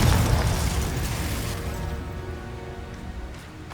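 A Confringo fire spell from Hogwarts Legacy bursts into a loud, booming explosion right at the start, then a rumbling roar slowly fades over several seconds.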